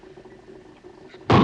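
A jar of hydrogen gas ignited with a struck match bursts in a sudden loud, close explosive whoosh lasting about a quarter second, after a stretch of quiet room tone.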